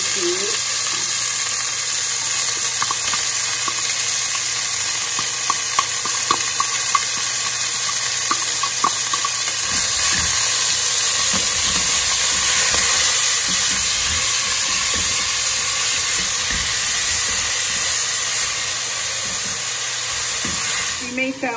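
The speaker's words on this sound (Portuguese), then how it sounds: "Agora eu vou colocar esse aqui, é o meu tempero de alho com cebola que eu fiz." Garlic and onion seasoning sizzles in a hot pan, a constant loud hiss with crackles and occasional clinks of utensils, while a person talks over it.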